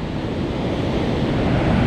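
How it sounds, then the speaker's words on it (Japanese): Ocean surf at a left and right break off Oarai (Onuki), Japan, rolls and crashes continuously with steady wind noise, a loud, dense wash of breaking waves and no voices. "ちょっと早めだけど十分いい波です。"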